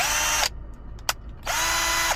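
A Hyper Tough 12V cordless drill set to drill mode whirs in two loud, close bursts, each about half a second or longer, with a short quiet gap between them.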